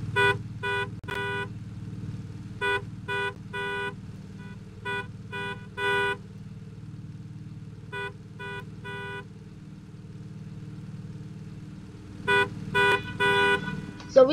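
Several car horns honk in a Roblox cart-ride game, short bursts and clustered toots recurring irregularly with long gaps, over a steady low engine hum.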